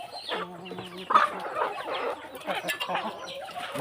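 Burmese fighting chickens clucking close by, a run of short, varied clucks and calls overlapping in quick succession, fairly clear with little background noise.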